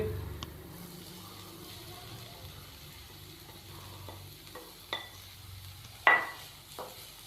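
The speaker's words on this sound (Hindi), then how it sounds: "1 से 2 मिनट के लिए हम चिकन शामिल करने के बाद इसको फ्राई करेंगे, इसको मज़ीद भून लेंगे।" Chicken frying in spiced oil in a pan, a quiet, steady sizzle with scattered stirring scrapes and a few sharper utensil clinks against the pan.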